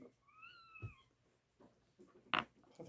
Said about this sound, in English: I thought there was a cat in here.